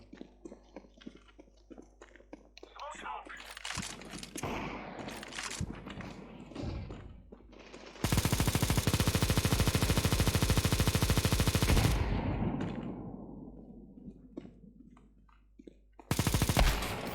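Negev machine gun in Counter-Strike 2 unloads long sustained bursts of rapid automatic fire, loud and dense, with a break before another burst at the end, amid game sounds and brief talk.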